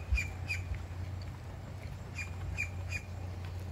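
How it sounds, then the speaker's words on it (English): Birds squawk and chirp in short repeated calls at a beach, fairly faint over a steady background of surf or wind, with a few calls clustered at the start and end. "Literally, the birds are singing"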